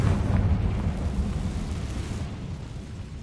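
A Confringo fire spell blasts in Hogwarts Legacy, a deep rumbling explosion that swells at once and slowly decays over a few seconds.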